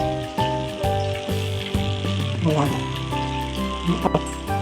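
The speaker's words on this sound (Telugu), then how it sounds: "ఫిష్ ఫ్రై అండి" Fish pieces frying in a pan, a continuous close sizzle and crackle with occasional soft stirring clicks, heard alone with no voices.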